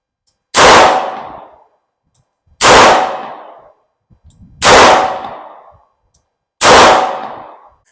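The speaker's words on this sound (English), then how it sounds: "move on to the Model 36 Smith & Wesson. This is a 3-inch barrel, and again, I'm shooting double action." Four loud, sharp shots from a Smith & Wesson Model 36 .38 Special revolver with a 3-inch barrel fired double action on a range, evenly spaced about two seconds apart, each a close crack with a ringing decay and quiet clicks between.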